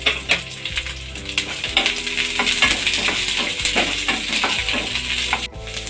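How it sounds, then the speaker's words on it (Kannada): Ginger and garlic fry with onion in a pan for egg sambar, a constant close sizzle under quick, rhythmic spoon scrapes and metallic clinks against the pan. "ಸ್ವಲ್ಪ ಫ್ರೈ ಆದರೆ ಸಾಕು ಇದಕ್ಕೆ ನಾನು ಶುಂಠಿ ಮತ್ತು ಬೆಳ್ಳುಳ್ಳಿನೂ ಕೂಡ ಹಾಕೋತಾ ಇದ್ದೀನಿ"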